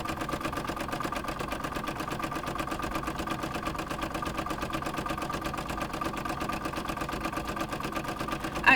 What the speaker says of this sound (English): And now it's going to stitch the casing where the ribbon is going to go.